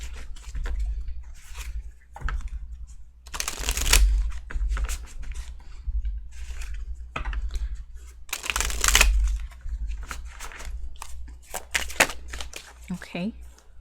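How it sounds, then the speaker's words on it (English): Tarot cards being shuffled by hand, repeated papery riffling bursts and soft pattering slaps in uneven clusters, close up, with a person talking quietly at times between the shuffles. "Cards aren't shuffling the way I want them to shuffle."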